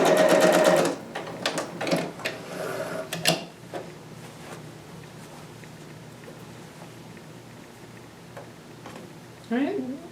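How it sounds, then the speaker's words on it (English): A sewing machine back stitches fabric in a short, fast, close burst of rapid stitching that trails off into quiet handling noises, with a voice speaking briefly near the end. "And then back stitch."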